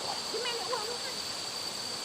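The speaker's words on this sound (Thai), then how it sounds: "ถึงแล้วโอ้โหน้ำตกสวยมาก ๆ นะทุกคน" Budo waterfall in Narathiwat, Thailand, rushes as a constant broad roar of falling water, with a person speaking briefly over it.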